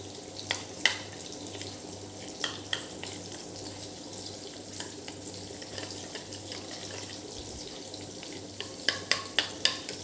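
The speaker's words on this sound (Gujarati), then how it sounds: "હવે આ બધું આપણે મિક્સ કરી લેવાનું છે" Chili powder, coriander-cumin powder and turmeric are stirred into a cooking pan with tomatoes, the spoon tapping the pan in sharp, irregular clicks, clustered near the end, over a constant low sizzle.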